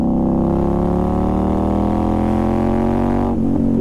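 A KTM Duke 890R motorcycle accelerates in city traffic, its engine note climbing loud and close as the pitch rises steadily, then dips briefly near the end as it shifts gear.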